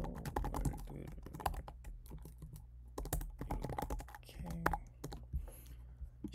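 Fast, irregular typing on a computer keyboard while coding, with crisp clacking keystrokes in close bursts and short pauses, under quiet speech.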